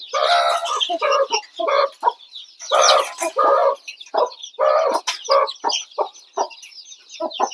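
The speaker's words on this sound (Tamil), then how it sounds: "நம்ம கிட்ட இத்தனை கோழிகள் இருக்கு ஃப்ரெண்ட்ஸ்" Native country hens on a goat farm cluck and squawk loudly up close as they feed, in bursts of short, choppy calls separated by brief quiet gaps.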